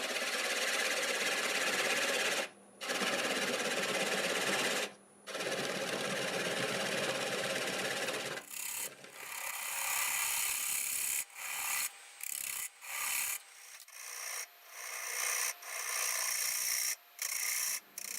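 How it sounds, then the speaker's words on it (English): A wood lathe spinning at about 600 RPM while a 1/2 inch bowl gouge cuts black walnut to remove a tenon, a steady rasping hiss at first, then broken into short scraping bursts with brief pauses. "I've got the lathe going about 600 RPM with a 1/2 inch bowl gouge"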